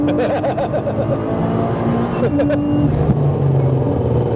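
A 1000hp Nissan GT-R at full attack on a race track, its engine droning loud and close with rising and falling pitch as it accelerates, under voices talking excitedly over it.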